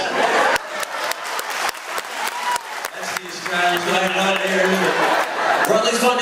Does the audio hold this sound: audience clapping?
yes